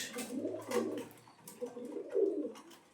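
Domestic pigeons in a breeding pair coo at close range, two low rolling bouts of throaty cooing separated by a short pause.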